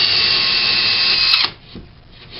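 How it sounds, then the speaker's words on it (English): A power drill bores a hole for a screw anchor while a closet system is installed, a loud, steady whine that cuts off abruptly partway through, followed by faint handling noise. "I'm now going to drill"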